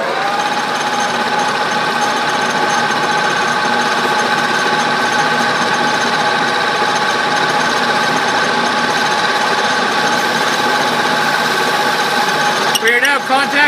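Metal being friction welded on a lathe spinning at 800 RPM, a loud, steady mechanical whine with a dense rattling hum that holds constant, then a brief scraping change near the end.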